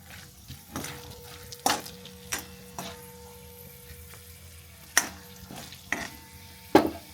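Dry spices tipped into hot oil for a samosa filling tempering, with a soft sizzle under scattered metallic clinks and taps of a spoon against the pan, fairly quiet and without voices.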